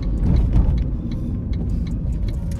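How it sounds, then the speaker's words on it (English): A car being driven, its steady low engine and road rumble filling the cabin close and continuous, with no talking and a few faint light clicks and rattles over the drone. "So I can tell you about this car I'm driving."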